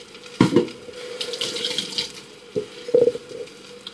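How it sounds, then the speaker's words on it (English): Raw eggs pour into a pan, giving a brief watery splash and trickle followed by a few softer liquid splats and a quiet sizzle, close by with no talking. "I'm going to pour these eggs in this pan."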